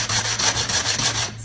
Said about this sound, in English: sand it down, and that's a terrible noise